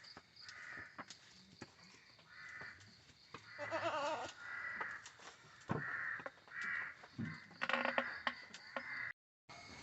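A female goat bleats once in a Kerala village farmyard while crows caw repeatedly all around. The calls are fairly faint and scattered across the scene.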